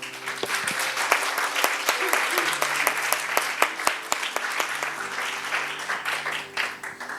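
A church congregation claps together in a fairly quick, steady rhythm, sharp individual claps standing out over a continuous crowd applause, with a voice speaking faintly underneath.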